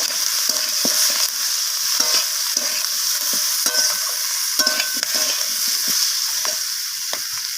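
Vegetables such as kohlrabi, radish, beans, brinjal and potato are stir-fried with spices in a pan, giving a steady loud sizzle under repeated close scraping strokes of a spatula.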